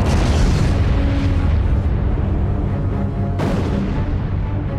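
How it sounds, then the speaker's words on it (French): A supernova explosion sound effect rolls out as a loud, sustained roaring boom that fades slightly, then a sharp second blast erupts near the end, with no talk. "La supernova explose en émettant des quantités d'énergie, si bien que tout ce qui est à proximité est anéanti."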